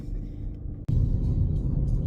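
A car heading down a mountain road, a steady close low rumble of engine and road noise with a brief dropout partway through.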